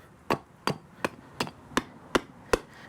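A Gränsfors Bruk Large Carving Axe chops wood with seven sharp, evenly spaced strikes about a third of a second apart, each a crisp close thwack that stands alone in quiet.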